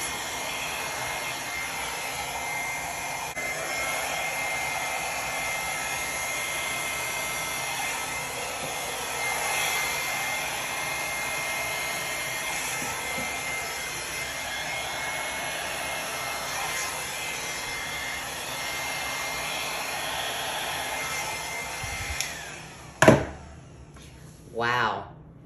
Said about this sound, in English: Use my small hair dryer.